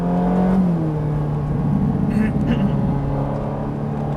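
Ferrari 458 Italia driving on a race track, a steady engine drone heard from inside the car with a gradual shift in pitch, while people talk over it.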